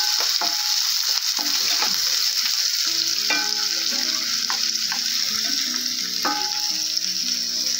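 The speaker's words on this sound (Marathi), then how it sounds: "मिक्स करून घ्यायचे." Finely chopped onions, two of them, get mixed in a pan with a bay leaf, giving repeated close scraping strokes over a continuous crackling sizzle, with no voices.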